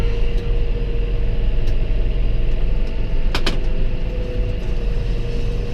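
A tractor engine runs steadily at a low, constant drone while straw is being baled in a field, close and loud throughout with no talk.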